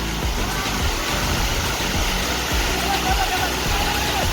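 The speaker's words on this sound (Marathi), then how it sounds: "बघा किती फास्ट पाणी हे होतंय किती फास्ट पाणी व्हायला लागले" Floodwater rushes fast after heavy village rain as an overflowing lake spills, making a loud, continuous roaring wash that sounds close by.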